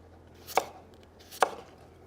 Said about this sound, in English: I'm just going to slice them nice and thin.